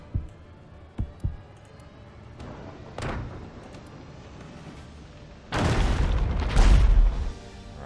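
Heavy cannon impacts strike a ship in the naval game Abandon Ship: a few sharp booms early on, then a loud rumbling blast with fiery crackle near the end, close and dominant.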